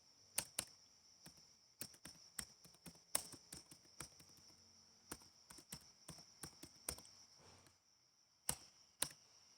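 Typing on a computer keyboard, close crisp key clicks in quick irregular bursts with brief pauses, alone in a quiet room.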